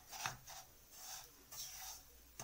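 Dry vermicelli being rubbed apart by hand to break up clumps, a soft scratchy rustle in several short bursts, close and quiet with no talking.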